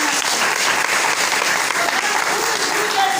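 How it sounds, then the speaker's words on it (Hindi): A crowd at a DXN meeting breaks into loud, steady applause for a mentor, a dense continuous wash of many hands clapping together with no gaps. "उनके एक बार जोरदार ताली"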